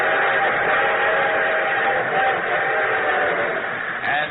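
A steady rumbling train sound effect for a radio broadcast, with rail noise and a sustained whistle tone rolling along evenly, closing with a brief higher whistle blip.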